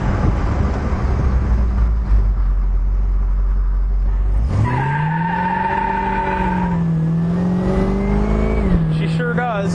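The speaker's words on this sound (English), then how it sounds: "Let's give it a little squeal." A 1970 Oldsmobile Cutlass 442 convertible muscle car engine idles with a low rumble, then revs up and holds a rising, sustained whine as tires squeal, settling back after several seconds.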